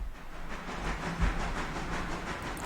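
A locomotive rolls along the track in the train simulation game Railroader, giving a steady, fairly loud rumble with faint rhythmic clatter and a brief low thump partway through.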